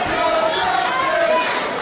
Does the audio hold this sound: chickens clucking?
no